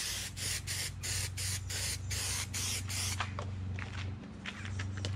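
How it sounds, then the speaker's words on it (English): Repeated hissing bursts from a can of spray adhesive, about a dozen short sprays in a steady rhythm, close by, with a low hum underneath and a few lighter hisses at the end, while lining a VW T5 van with carpet. "I tend to go for three sort of columns of the spray or rows of the spray."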